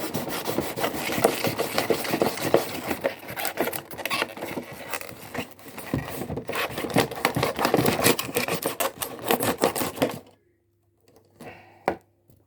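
A knife slices through the plastic packaging of a Crash Bandicoot Resaurus figure, giving about ten seconds of close, steady scraping and rasping cuts before it drops to near silence with one last faint scrape.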